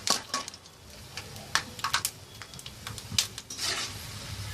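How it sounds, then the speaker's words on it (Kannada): Peanuts stir-fry slowly over a low flame in a pan, with intermittent spatula scrapes and light clinks over a soft, quiet sizzle and no talking. "ಸೊ ಈ ರೀತಿ ನಿಧಾನವಾಗಿ ಸಣ್ಣ ಉರಿಯಲ್ಲೇ ಫ್ರೈ ಮಾಡ್ತಾ ಇದ್ದೀನಿ"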